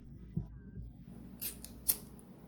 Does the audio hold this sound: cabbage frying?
no